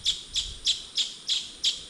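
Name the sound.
bird chirping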